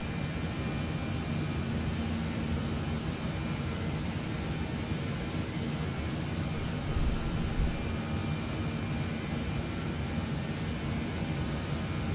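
A simulated airplane engine in Microsoft Flight Simulator 2020 roars as a constant, dense broadband drone that holds steady throughout, with a slight swell partway through as power increases.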